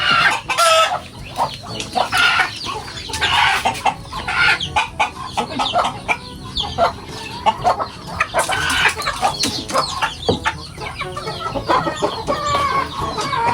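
Native chickens cluck and squawk busily up close, with a rooster crowing now and then amid the steady farmyard chatter.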